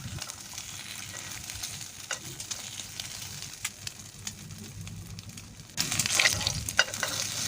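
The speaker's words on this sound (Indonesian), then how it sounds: "Kemudian goreng di sini seperti ini sampai telurnya dulu bisa dibalik ya." An egg sizzles and crackles in a hot pan, a steady frying hiss that grows louder near the end, with occasional scraping of a utensil.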